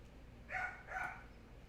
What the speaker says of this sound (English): Sorry again for the dogs.